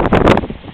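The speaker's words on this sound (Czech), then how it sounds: "ono dneska fouká bůra" Bora wind gusts buffet the microphone outdoors on a Croatian island, giving loud low rumbling thumps that ease off within a second.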